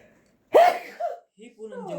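One sharp sneeze bursts out during a casual game of tongits cards, and voices pick up talking right after it.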